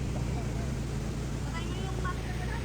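A car engine idles with a steady low rumble while people talk nearby.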